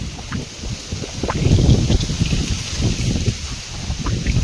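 Strong wind gusting outdoors in a village, a steady rough rumble with buffeting swells that rise and fall continuously close to the microphone.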